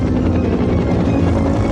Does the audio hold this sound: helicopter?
yes